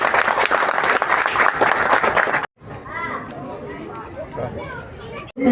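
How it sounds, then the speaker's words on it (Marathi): Applause from an audience at a Navratri maha-aarti, a dense burst of clapping that breaks off sharply, then gives way to crowd chatter and voices before clapping resumes at the end. "टाळ्या जरा जोरात होत्या"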